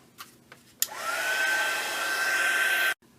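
A hair dryer blows steadily on a colored journal page, a loud whooshing hum with a rising whine that holds for about two seconds before switching off abruptly, preceded by a few light taps.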